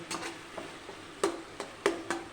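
Spice paste for a Bengali jackfruit and prawn curry frying in oil as it is stirred, with soft sizzling and a few sharp scraping clicks of the spoon, close by.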